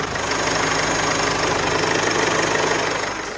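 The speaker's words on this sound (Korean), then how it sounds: "역시 2이 디젤 엔진답게 디젤음은 들려주고 있지만 굉장히 규칙적인 엔진 사운드까지 잘 들려주는 모습이고요" A Mercedes-Benz-sourced diesel engine in an Infiniti Q50 sedan idles steadily up close with the hood open, a continuous low rumble and even, regular knocking, loud and uninterrupted.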